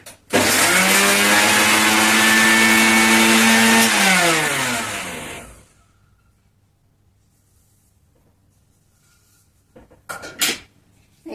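A mixer grinder whirs loudly for about five seconds, grinding garlic with powdered coconut for a fish curry masala, then its motor pitch sinks as it winds down, followed by silence and a few small clicks.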